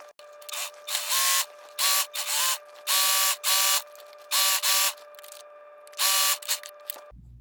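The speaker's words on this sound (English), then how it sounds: "Bottom all serged up." A serger stitches along the bottom hem of a jean dress in short bursts of fast, whirring, mechanical running, about eight runs separated by brief pauses, close and loud with a steady high hum underneath and no talking.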